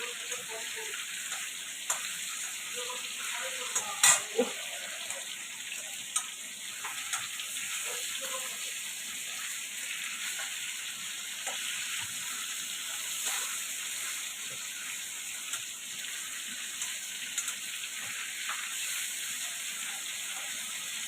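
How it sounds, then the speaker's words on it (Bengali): Fish sizzles steadily in hot oil with a constant frying hiss, broken by a few faint clinks and pops. "মাছটা ভাজা হালকা ভেজে নিব বন্ধুরা, খুব নরম মাছ, হালকা ভেজে নিব"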